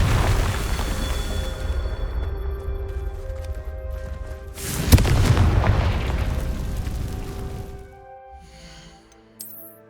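A Confringo spell explodes in the Hogwarts Legacy game, a single sharp blast with a rumbling tail that cuts through a low, busy background before everything fades and thins out.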